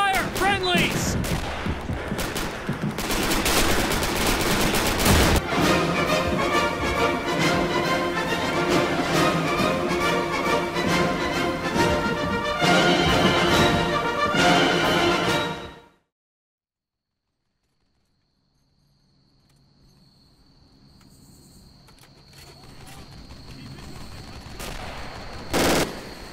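Rapid gunfire and machine-gun bursts in a combat scene with friendly troops under fire, loud dense volleys with shouting mixed in for about fifteen seconds, then a sudden silence before faint ringing and rising rumble return.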